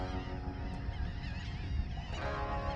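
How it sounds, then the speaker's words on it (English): A flock of birds honking continuously in the distance over shallow water, layered calls blending together over a steady outdoor background. "You guys hear and see all those birds?"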